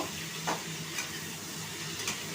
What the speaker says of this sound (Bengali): এটাকে জাস্ট একটুখানি ভেজে নেব